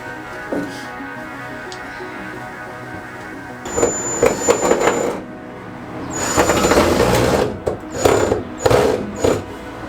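A power driver runs a long screw through a metal stud while fixing furring strips, giving bursts of loud whirring with brief pauses, close and alone with no talk.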